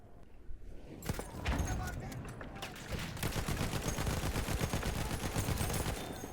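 Gunfire in the World War I shooter Battlefield 1, with bursts of rapid shots and scattered single cracks building into a sustained, fairly distant barrage, mixed with faint voices.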